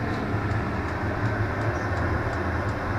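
A 2kW diesel heater being tested in a Mazda Bongo, left running until its fuel runs out, heard as a steady close mechanical hum and roar with a faint rhythmic ticking.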